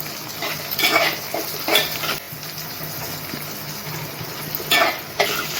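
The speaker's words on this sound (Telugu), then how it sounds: "ఇదిగోండి పచ్చిమిరపకాయలు వేసాము." Green chillies stirred into three large frying onions in a pan for Nellore-style small fish curry, with a steady low sizzle and a few scraping stirs and utensil clinks close by.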